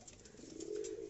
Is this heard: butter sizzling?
no